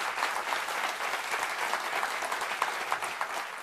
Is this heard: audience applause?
yes